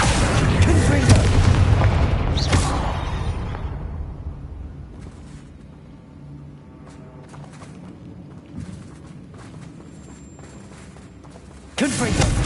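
Confringo spells burst in Hogwarts Legacy combat: loud, close booming blasts open the stretch, ease into quieter rumbling with scattered impacts, then another sharp explosion strikes near the end, with voices shouting over the action.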